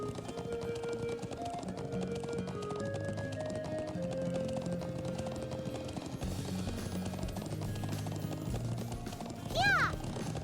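Hoofbeats of a horse galloping in the game Trails of Cold Steel, a steady clip-clop running under background music and a brief bright chime near the end.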